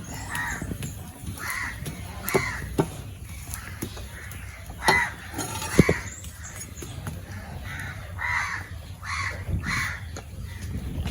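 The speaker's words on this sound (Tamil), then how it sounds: "காகம் தான் காத்துது" A crow caws repeatedly outdoors in a home setting in Jaffna, the harsh calls coming in irregular bursts over a steady background hum, with no one talking.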